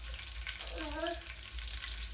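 Whole spices, two cloves, a little cinnamon and three peppercorns, fry in about two tablespoons of oil in a pan, giving a soft, steady sizzle at low volume, with a faint voice briefly murmuring underneath.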